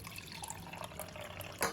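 Water is poured into crepe batter in a home kitchen, a soft splashing, trickling flow running for under two seconds and ending in a brief louder splash.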